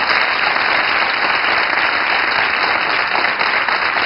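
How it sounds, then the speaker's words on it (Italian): An Italian television studio audience claps in a dense, even roar of applause that holds at full loudness throughout, with no voices rising above it. "Applaudono."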